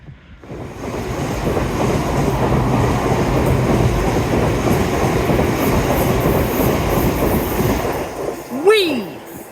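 A Class 50 diesel locomotive hauls its train past, a loud, steady rumble with rapid wheel clatter that swells and holds for most of the stretch, then a brief rising whistle-like squeal cuts through near the end.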